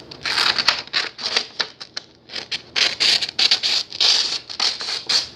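Craft paper or card being cut with scissors for a bucket-themed craft, heard as close, quick bursts of snipping and rustling in an irregular rhythm with brief pauses, no talking.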